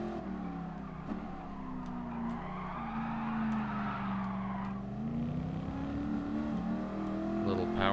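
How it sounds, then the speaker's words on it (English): A rear-wheel drive car power slides in the Gran Turismo Sport racing game on a dirt rally stage, its steady engine drone rising and falling as the tyres scrub through the slide, with a voice talking over it. "Little power slide."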